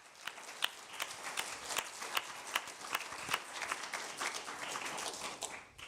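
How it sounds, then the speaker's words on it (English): An audience at a public services summit applauds the panelists. The clapping is fairly faint and somewhat distant, with scattered sharp claps over a continuous patter that keeps going throughout. "join me in giving the panelists a warm round of applause"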